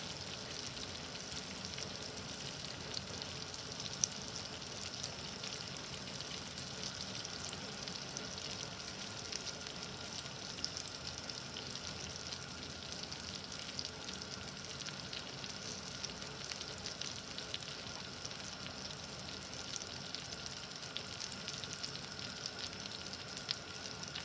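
Food left cooking in a hot pan for a salmon dinner with buttered Old Bay sauce, a faint, even crackling sizzle that holds steady throughout with no talking.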